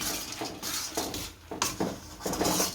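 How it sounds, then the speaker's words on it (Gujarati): Roasted gram (daliya) scrapes and rattles against a pan as it is stirred into hot jaggery, a close, repeated rhythmic scraping in bursts of strokes. "હવે આપણે ડાળિયા નાખી દઈશું અને હલાવી નાખશું"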